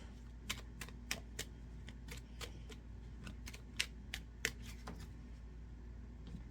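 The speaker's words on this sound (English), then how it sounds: "I keep shuffling so badly that my cards are flying out everywhere and all over the floor." Tarot cards are shuffled by hand in quick, irregular riffles and snaps, close and fairly quiet, with scattered sharp flicks in a still room.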